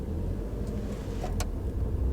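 A VW Golf MK7 GTI pulling away in first gear, a steady close engine drone with low rumble and road noise from inside the car, continuous and moderately loud.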